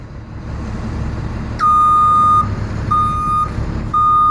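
An International 4400 five-ton truck sounds its reversing alarm: three loud, steady electronic beeps, each lasting under a second, over a low idling engine rumble close by.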